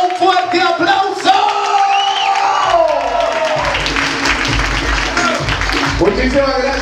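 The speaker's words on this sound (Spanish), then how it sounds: "Creo que se merece un fuerte aplauso." An audience applauds and cheers loudly after a live mariachi performance at a quinceañera, a sustained roar of clapping and whoops that swells and keeps going.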